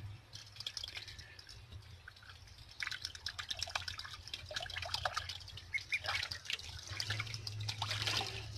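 Water runs and drips into a bathing tub for pet ducks, a steady trickle with splashy bursts that grows fuller in the second half, heard close, with a low hum underneath and no talking.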